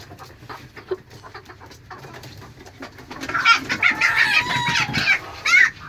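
Clucking chicken sounds, soft at first and then louder and more agitated, with excited bursts from a rooster up close.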